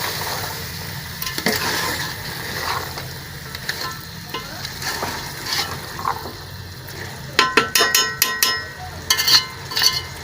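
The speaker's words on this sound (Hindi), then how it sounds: "इसको हमने तकरीबन 5 से 6 मिनट तक ऐसे ही भूनना है।" Mutton and chickpeas roast in a pan with a steady sizzle, irregular scrapes, and a flurry of sharp metallic clicks and rattles from a utensil stirring against the pan toward the end, close and fairly loud.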